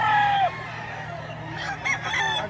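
A rooster crows once at the start, fairly close and clear, followed by a few softer clucks and fowl calls against a quiet outdoor background.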